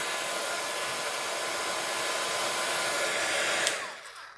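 Steady loud blowing roar of a heat tool drying water droplets on a handmade card, running continuously before cutting off and fading near the end.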